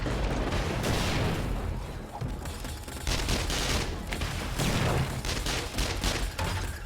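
Turrets fire nonstop at a horde of zombies in the survival game 7 Days to Die on insane difficulty. The gunfire comes as a loud, dense, rapid fusillade that runs without pause from start to finish.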